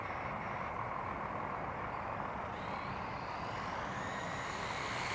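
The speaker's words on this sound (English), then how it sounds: "It's full throttle again." A WLToys RC car's electric motor runs at full throttle, a continuous steady whine with a rising high-pitched tone near the end, heard alone.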